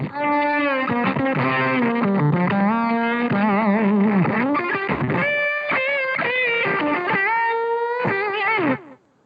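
Electric guitar through an overdriven amp with an Arbitrator fuzz pedal switched off, gritty tone playing a melodic run of sustained notes and bends, up close, ending abruptly.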